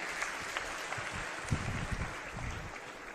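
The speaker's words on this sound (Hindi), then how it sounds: "एक बार ताली बजा के हमारी टीम का हौसला बढ़ा दें।" An audience at a political rally claps together for several seconds, a steady wash of applause with a few sharper claps standing out, fairly loud, with no speech over it.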